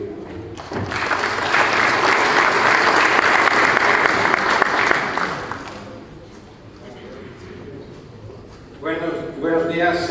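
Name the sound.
applause for a speaker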